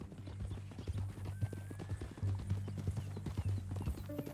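Horse hooves clip-clopping steadily in Red Dead Redemption 2, a regular rhythmic trot of close, distinct hoofbeats on a dirt path with a low steady background hum and no talk.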